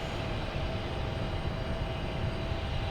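A loud, steady, continuous jet engine roar from a JetBlue airliner in Inspiring Humanity livery at Boston Logan Airport, holding a constant level throughout.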